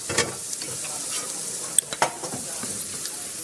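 Tomatoes sizzle in a hot pan while a spoon stirs and scrapes them, soft steady frying hiss broken by a few sharp clinks and scrapes, quiet and close.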